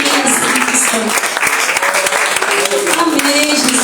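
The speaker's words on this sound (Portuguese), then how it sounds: "Aplauda o nome do Senhor com alegria." A church congregation claps together in steady, dense applause that fills the whole stretch, with voices heard over the clapping.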